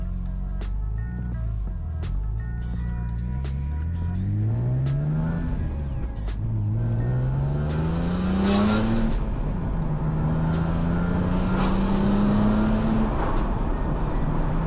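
BMW M3 E46 being driven, its engine rising and falling through several gear changes, steady and close from inside the car, with quiet conversation at moments.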